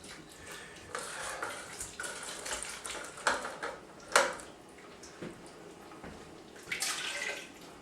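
Water poured from a can into a pot of thick Italian gravy, a splashing, gurgling pour with a few clinks of metal, fairly quiet and close.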